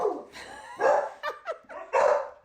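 A dog barks several times in a quick, uneven run of loud, close yips and woofs, heard alone without talk.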